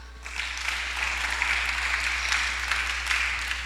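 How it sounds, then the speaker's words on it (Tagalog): Steady clapping from a group at a church discipleship training session, a dense, continuous patter of hands holding at an even level for several seconds with no talking over it. "Palakpak."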